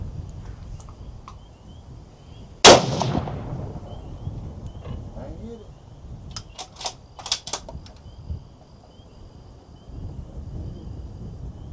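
At a shooting range in Valdosta, Georgia, a single loud, sharp gunshot cracks out with a ringing decay, followed by quieter clicks and clatter of handling amid faint background noise.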